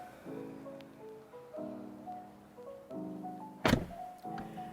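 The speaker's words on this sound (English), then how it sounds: "the door closes itself" A Rolls-Royce Ghost's powered door pulls itself shut in a series of smooth motor whirs that step up in pitch, broken by a sharp solid thunk near the end, all close and without speech.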